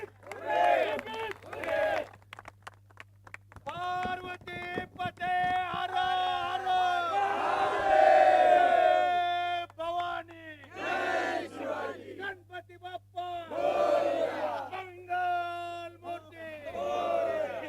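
The winning Pellar team roars and whoops in a loud, enthusiastic crowd cheer at the Superintending Engineer Cup 2025 prize distribution after the final, with shouting voices rising and falling in bursts.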